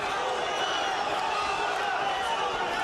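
Dense crowd roar from a Russian boxing arena during Ibragimov versus Holyfield, a steady loud wash of many voices filling the hall throughout without a break.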